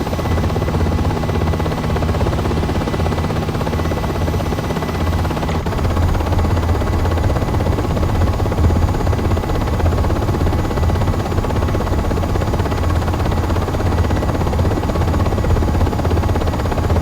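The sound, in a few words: UH-60M helicopter in video game Aerofly FS4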